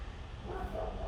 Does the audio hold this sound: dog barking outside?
yes